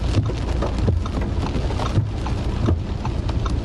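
Heavy rain in a storm with strong southwesterly wind in Istanbul, a dense, continuous loud wash with scattered sharper patters and thuds throughout, and no speech.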